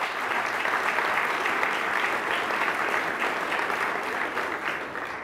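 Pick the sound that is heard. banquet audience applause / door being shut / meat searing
banquet audience applause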